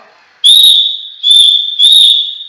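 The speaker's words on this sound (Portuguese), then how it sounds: "o guarda de trânsito usa o apito, que é para ajudar a sinalizar o pedestre" A traffic guard's whistle gives three sharp, loud blasts, a long first one followed by two shorter ones, shrill and close with nothing else around them.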